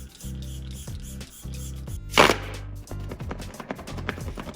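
Milk Hydro Grip Set and Refresh setting spray misted onto a face: one short, bright pump-spray hiss midway, standing out clearly above a quiet background of soft music.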